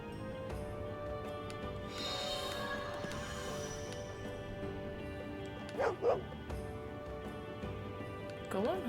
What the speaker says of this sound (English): Hey, dog.